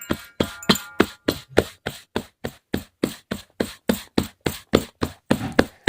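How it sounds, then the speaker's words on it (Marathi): Both hands pat a soft bajra (pearl millet) bhakri dough flat in a steady rhythm of about three slaps per second. The claps are sharp, close and distinct, with no talking over them. "अशा प्रकारे भाकर थापून घ्यायची"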